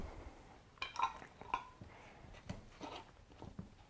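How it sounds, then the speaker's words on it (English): A lid goes onto a glass jar of pickled eggs in spiced brine, giving faint glassy clinks and taps, a small scrape and a few light handling knocks in a quiet kitchen. "And then seal it with a lid."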